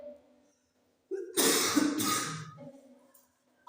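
A single cough bursts out at close range, loud and rough, with a little speech just before it and fading talk afterward.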